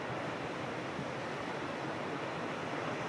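Big ocean swells and surf coming in one after another, a continuous broad wash of breaking water roaring evenly throughout with no voices.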